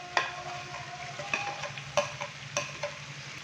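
Mutton pieces hit a pan of spiced masala and fry, with a low steady sizzle broken by a few sharp stirring scrapes and clatters, close and moderately loud.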